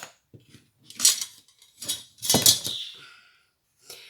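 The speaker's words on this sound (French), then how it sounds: "Donc, je vais prendre mon ciseau." Metal scissors clink and rattle as they are picked up, a few short sharp clatters spread across a few seconds while making a cardboard storage box, with quiet gaps between.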